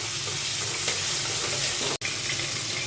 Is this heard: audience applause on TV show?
no